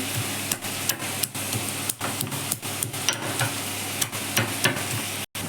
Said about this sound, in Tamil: பூண்டு ஒரு நாலஞ்சு பல்லு பூண்டு எண்ணெயில் போட்டு பூவோட வதக்கிடணும்